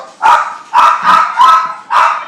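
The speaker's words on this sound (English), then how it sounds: "Got a dog going crazy here." Dog barking excitedly and close by, five loud barks at a steady, fairly quick rhythm, heard alone without talk.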